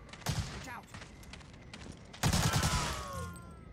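Gunfire in the WWII shooter Medal of Honor: Allied Assault, with rapid automatic bursts coming in two clusters and echoing over a noisy game mix, while a player's voice shouts over the shots.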